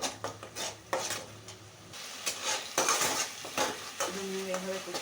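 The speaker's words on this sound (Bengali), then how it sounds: "জল দিয়ে এটাকে ভালো করে হালকা আছে কষিয়ে নেব" Ghugni masala sautéed with a splash of water in a pan, with repeated spatula scrapes and clinks over a soft sizzle, close up, plus a faint tonal hum near the end and no talk.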